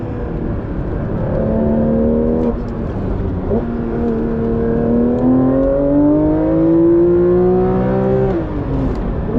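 Porsche 911 GT3 RS driven on a winding road, its engine rising and falling in pitch through gear changes and throttle, loud and close from the cabin with steady tire and road noise underneath.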